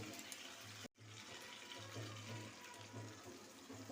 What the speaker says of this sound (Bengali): এবার টক দইয়ের বাটিটা ধুয়ে সামান্য জল দেব